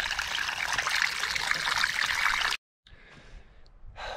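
Water trickles from a small low-yield well into a gravity-feed setup at a backcountry camp, a steady close splashing that stops abruptly, then resumes more faintly.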